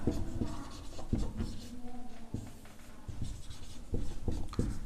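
A pen scratches across paper while maths working is written out, a close series of short scribbling strokes and taps with brief pauses between them.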